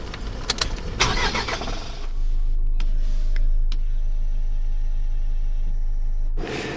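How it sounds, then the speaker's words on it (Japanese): A camper van engine cranks and catches, then settles into a steady low idle for several seconds before a rising rev as it pulls away. "それでは安全運転で再出発します"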